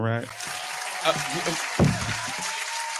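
An applause sound effect plays during a podcast, a steady crowd-clapping bed running under talk, with a voice speaking briefly over it.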